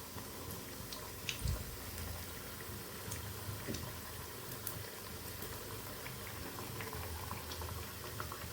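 Jib goja dough frying in hot oil in a wok, a soft continuous bubbling hiss with occasional small pops, steady and fairly quiet at close range.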